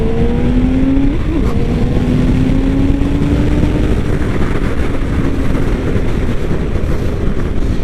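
A 2016 BMW K1600GT motorcycle engine holds a steady, loud drone while riding, with heavy wind rush over the microphone and a brief pitch shift near the start.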